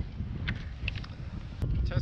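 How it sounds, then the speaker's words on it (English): Steady low rumbling wind buffeting the microphone throughout, with a few faint higher sounds and brief bursts over the gusty roar. "It's kind of windy."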